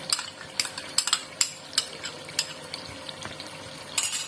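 Yogurt is stirred into frying meat and masala in a pot for aloo gosht, with a metal spoon clinking and scraping in irregular strikes over a soft, steady sizzle.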